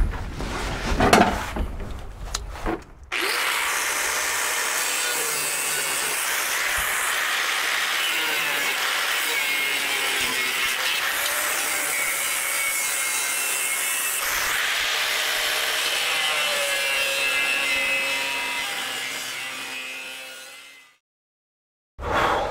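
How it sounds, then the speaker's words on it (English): Sheet metal on a vehicle body being cut along a brace, a long, continuous, loud grinding-rasping cut that runs steadily for many seconds after a few short starts, then trails off and stops. "when I'm cutting, I'm just cutting at the very skim of the metal, only the thickness of the metal"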